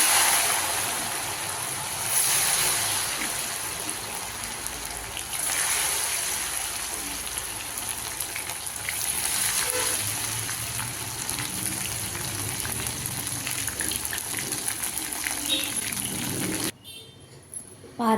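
Soya 65 chunks deep frying in hot oil, a steady close sizzle and bubbling that runs continuously with slight surges, then cuts off abruptly near the end.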